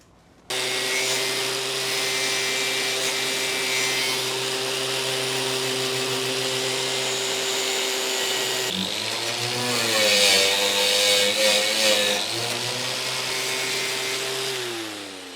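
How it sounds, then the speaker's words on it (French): A power wire brush works the metal to be welded on a Citroën 2CV body: a loud, steady motor whine that holds evenly, then shifts pitch and grinds harder as it bites the panel, with no talk. "je vais brosser la partie à souder."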